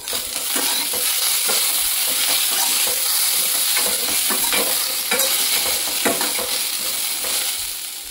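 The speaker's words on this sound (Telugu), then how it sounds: "ఇప్పుడు ఈ చిలకడ దుంపల ముక్కలు కూడా మనం మీడియం ఫ్లేమ్ పెట్టుకొని ఒక 2 నిమిషాలు వేయించుకోవాలి." Sweet potato pieces fry on a medium flame with a steady, close sizzle, broken by repeated scraping and stirring strokes in the pan.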